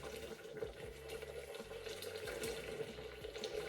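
Sixty grams of water hit hot caramel during liquid caramel making, giving a steady, fairly quiet hissing sizzle with dense bubbling that continues without a break and no voices.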